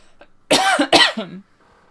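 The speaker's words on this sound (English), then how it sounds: "I apologize, I'm going to cough again." One person coughs twice in quick succession, loud and close, with a short raspy tail and near silence around it.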